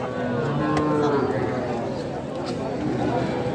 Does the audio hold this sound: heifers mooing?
yes